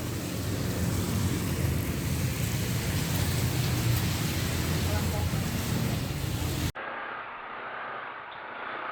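Steady rain falls while a rider waits out a downpour on a motorbike trip, a dense continuous hiss that cuts off abruptly near the end, leaving a quieter background.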